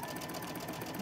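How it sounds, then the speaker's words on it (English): Sewing machine stitching through quilt fabric in a rapid, continuous whir of needle strokes, faint and steady for a short burst. "now I'm going to sew this side"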